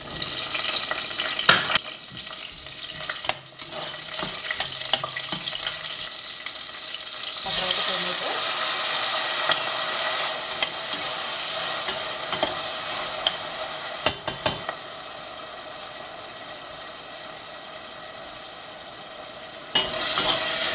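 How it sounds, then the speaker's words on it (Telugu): Green chillies and chopped onion sizzle and fry in hot oil with fenugreek seeds and asafoetida, with steady close frying noise and occasional stirring scrapes. "ఇందులో పచ్చిమిరపకాయలు, ఉల్లిపాయ వేయాలి."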